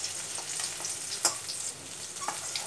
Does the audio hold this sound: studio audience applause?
no